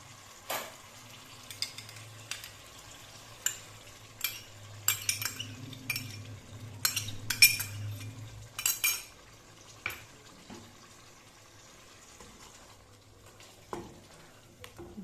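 Yogurt is stirred into beef pasanday in a pot, with scattered spoon scrapes and metallic clinks over a faint, low simmer; the clinks cluster midway and thin out toward the end, and no one speaks.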